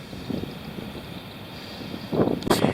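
Outdoor wind at an old Florida homestead buffets the microphone in low rumbling gusts, growing stronger in a couple of bursts near the end.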